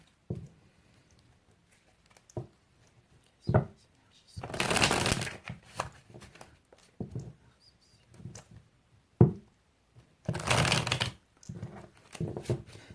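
Tarot cards being shuffled before a reading, heard as two dense riffling bursts around five and eleven seconds, with a few sharp taps between and a voice speaking quietly in the gaps.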